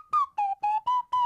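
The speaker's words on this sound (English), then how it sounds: "we need slide whistle solo." Slide whistle played as a comic sound effect, five short sliding whistle notes in quick succession, each bending and settling, loud and close with no talk.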